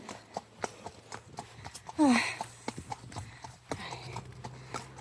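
Steady clip-clop of horse hooves on a hard British lane surface, close by, with a brief whinny-like squeal in the middle.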